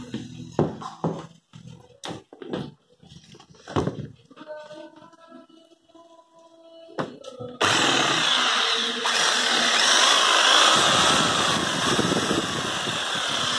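Speech and handling noises come first, then a German Matico ST450 jigsaw starts and runs with a loud, steady buzzing whine for the rest of the time.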